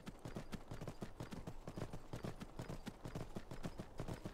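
Horse hooves clip-clop at a steady gallop in the video game Skyrim, a rapid, even rhythm of close, fairly loud hoofbeats running continuously from start to finish.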